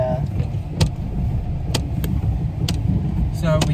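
A car rolls slowly around a car park, its engine and road rumble steady underneath while people chat over it, with a few short clicks or taps cutting through.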